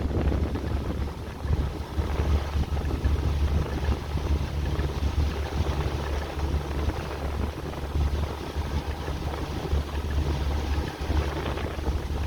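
A 2007 Pro-Line 24 SS boat runs across the water with a steady low engine drone, heavy wind buffeting and rushing spray all around, and no talk.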